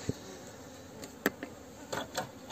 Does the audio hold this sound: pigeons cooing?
no